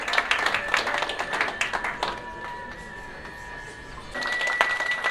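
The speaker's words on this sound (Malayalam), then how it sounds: "നിറഞ്ഞൊരു കയ്യടി എല്ലാവരും ഒന്ന് സമ്മാനിക്കണം" Crowd applause at a film pooja ceremony for the Marimayam team, scattered claps throughout with a steady tonal hum beneath, thinning in the middle and swelling again near the end.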